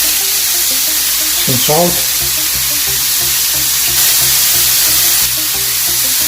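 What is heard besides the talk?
peppers, zucchini and black beans sizzling in a skillet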